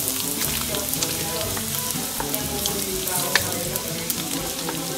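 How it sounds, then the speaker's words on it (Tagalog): Garlic and onion sauté for pansit bihon in a hot pan, giving a steady close sizzle with light stirring scrapes and a few sharper pops throughout. "Gigisa natin yung bawang, sibuyas."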